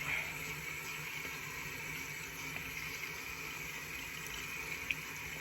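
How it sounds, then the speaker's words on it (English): Water from a sink tap runs at low level in a steady, quiet stream as it wets fingertips, with no talk. "now I just added some water to emulsify"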